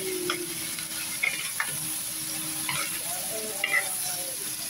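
Mustard greens cooking in a pan give a continuous soft sizzle with occasional stirring scrapes, steady and moderately close.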